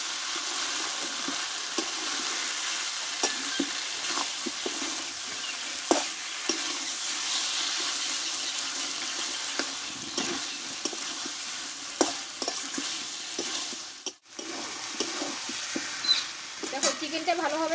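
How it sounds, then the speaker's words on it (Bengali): Chicken being stir-fried (kosha) in a pan for a spicy Bengali-style dish, with a steady close sizzle and a run of scraping stirs and light taps throughout. "দেখো চিকেনটা ভালোভাবে আমি কষে নিয়েছি"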